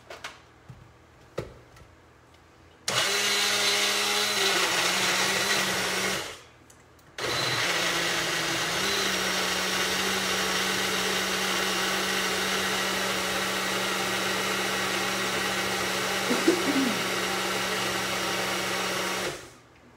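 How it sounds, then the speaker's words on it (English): A blender whirs loudly as it purees green pozole, cooled slow-cooked meat and fresh vegetables, running steadily for a few seconds, stopping briefly, then restarting for a long continuous blend. "So we're gonna blend this up."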